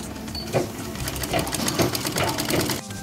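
A sewing machine stitches through three layers of blouse cloth at the lower cross belt, a steady mechanical whir with rhythmic needle knocks roughly twice a second, close and fairly loud.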